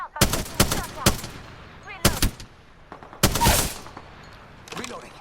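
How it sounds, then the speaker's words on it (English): Gunfire in the Apex Legends battle royale game: several sharp, loud shots and short bursts spaced irregularly, some crackling and echoing, with quieter game sounds in between. "Listen up, I'm getting shot at."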